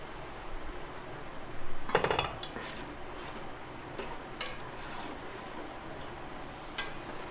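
A spoon stirring chicken khichuri inside a rice cooker makes soft scraping and clattering metal clinks, with one louder burst of knocks early on and scattered faint taps afterward, quiet and close.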